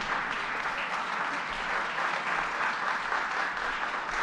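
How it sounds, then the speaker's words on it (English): A crowd applauds at a public event introducing Governor Kathy Hochul, a dense, steady clapping from a large audience that holds at an even level throughout. "Let's give another round of applause to Athena Matos."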